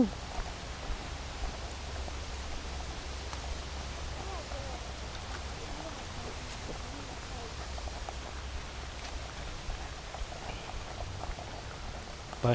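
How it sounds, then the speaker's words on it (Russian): Faint, steady patter of rain and scattered drips outdoors, soft and continuous, with occasional rustling nearby. "Дождь капает, что ли?"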